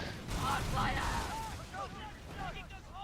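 Demi cannons firing from a ship in the naval game Skull and Bones, rumbling booming blasts rolling under a voice while game sounds continue.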